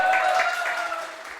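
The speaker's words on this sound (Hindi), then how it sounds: "तालियां" Students in a CA exam-prep classroom applaud a guest teacher with a dense burst of clapping that tapers off, mixed with a faint sustained tone in the room.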